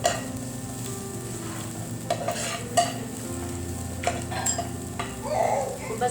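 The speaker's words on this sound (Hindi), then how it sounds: "बस रोल के लिए ज़्यादा प्याज ना भुनिए ना इसको तलिए, सिर्फ इस तरह सोटे करके।" Onions and garlic sautéing in a pan for an egg roll filling, a steady close sizzle broken by occasional clinks and scrapes of a utensil stirring against the pan.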